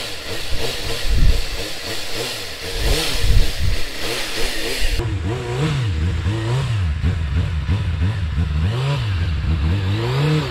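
Motorcycle ridden through a slow training course with the clutch controlling power, its engine rising and falling in steady rhythmic revving close by, with wind hiss and no voices.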